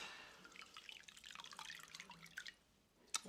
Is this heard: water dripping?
yes